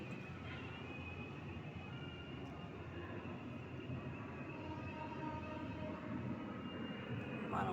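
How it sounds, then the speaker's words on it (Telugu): A large airplane passes overhead as a steady, broad roar that swells slightly toward the end. No one speaks. "విమానం వెళ్తుంది, పెద్ద విమానం అది."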